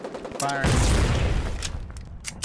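Tank cannon shells fire in the online war game Foxhole, a loud burst of booming blasts with rumbling echoes over about two seconds.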